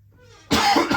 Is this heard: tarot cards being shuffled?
no